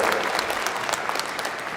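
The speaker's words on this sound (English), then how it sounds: "I think we need a great big round of applause for all our teamsters." A crowd applauds at a chore team competition finals, a dense, steady wash of clapping that holds at an even loudness for the whole moment with no talk over it.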